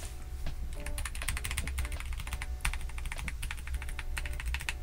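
Keys clack on a MelGeek Modern97, a 98% mechanical keyboard with heavy, damped tactile switches, in fast close bursts with short gaps and no speech.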